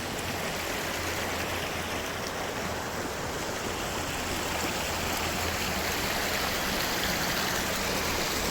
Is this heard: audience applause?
no